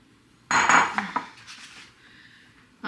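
A clatter of utensil on bowl as eggs are beaten for brownie batter, a burst of clinking strokes near and loud, then fading to quieter scraping before another knock at the end.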